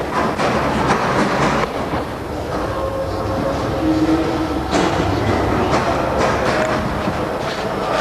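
A Paris metro train runs at midnight with a loud rumbling roar and rhythmic clatter of wheels on track, heard from inside the carriage throughout.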